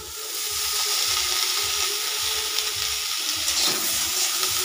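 Eggplant and neem leaves fry in a hot pan with a steady, broad sizzle and hiss that holds at an even, moderate level close by throughout.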